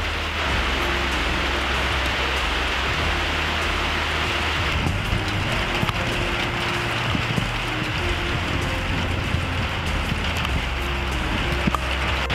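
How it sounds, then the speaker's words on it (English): Heavy monsoon rain pours down at an off-grid rainwater harvesting setup, a steady dense hiss of drops on surfaces with a low rumble underneath, continuous and unbroken. "The monsoon rains are officially here."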